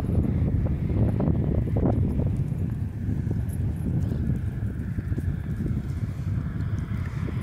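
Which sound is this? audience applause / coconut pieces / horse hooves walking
horse hooves walking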